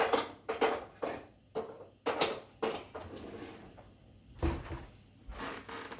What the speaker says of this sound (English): Kind of stir that around to get that salt throughout